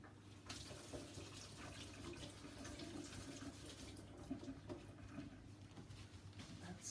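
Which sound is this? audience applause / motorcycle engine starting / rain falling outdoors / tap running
tap running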